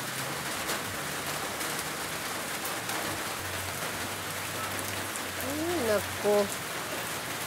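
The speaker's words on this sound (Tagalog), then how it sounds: "Always rain here in Davao." Steady rain falls in Davao, a constant close hiss of drops on surfaces throughout, with a brief spoken exclamation near the end.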